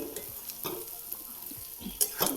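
A spoon stirs matki fry mixed with crushed peanut powder and salt in a pan, giving a steady sizzle broken by scraping strokes and a couple of sharper clinks near the end.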